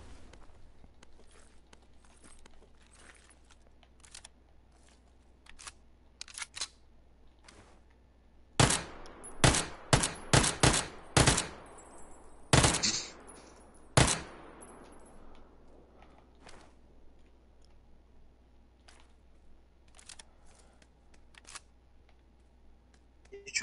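Gunfire aimed at a parachuting player in a PS4 shooter: a loud run of sharp, closely spaced shots, with scattered fainter shots and footsteps before and after, and no talk over it.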